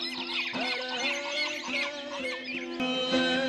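Migratory birds in trees at Haleji Lake chirp and call densely and continuously, a steady layered chorus near and loud with no talk.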